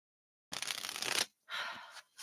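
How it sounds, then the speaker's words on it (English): A deck of oracle cards shuffled in two close riffling bursts, the first longer and crisper, the second shorter, with a brief pause between and no talking. "let's put a shuffle on this and see what else we have"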